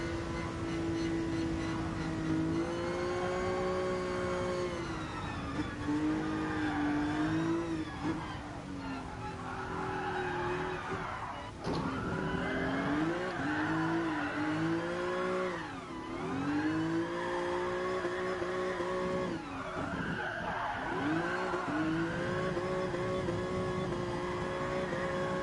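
A car drifting on the Nordschleife in the racing game GT Sport, its engine rising and falling through revs with long tire squeals sliding under and over it, continuous and loud throughout.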